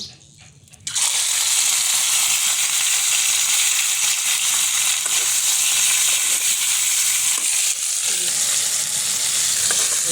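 Chicken meat dropped into a hot pan of fried chilies and onion, bursting into a loud, sustained sizzle that holds steady throughout.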